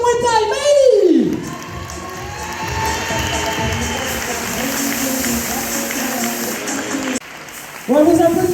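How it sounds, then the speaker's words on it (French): A crowd at a sports award ceremony honouring a young Muay Thai and kickboxing champion claps and cheers, a steady wash of applause lasting several seconds with a voice speaking over it at the start and end. "vos applaudissements, s'il vous plaît"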